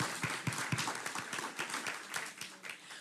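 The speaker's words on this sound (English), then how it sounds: "round of applause." Audience applause at a celebration event: a few sharp, distinct claps open, then they blend into a moderate, somewhat quiet round of clapping that rises and falls.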